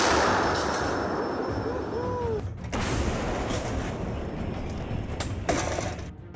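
Artillery fire pounds around a Russian army tank column, a dense, loud roar of blasts and rumbling detonations running throughout, with sharper bursts near the three- and five-and-a-half-second marks.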